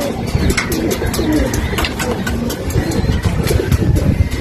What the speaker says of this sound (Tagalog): May kalapati dito ka.